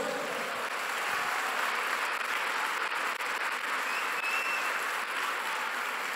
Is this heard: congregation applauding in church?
yes